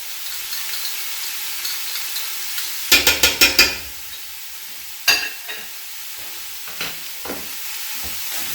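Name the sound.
stirring butternut squash soup with seasonings in pot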